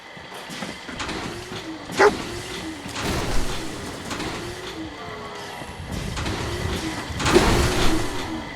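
Dogmeat, the dog in the Fallout 4 video game, gives a few short barks and yips amid continuous rumbling and scraping game noise, the loudest around the middle and toward the end.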